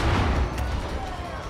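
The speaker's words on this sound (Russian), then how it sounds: "Или что это за взрыв был?" A heavy explosion in the video game Far Cry 5, a dense booming blast at the start that rolls off into a long rumbling decay, close and loud, with no talking over it.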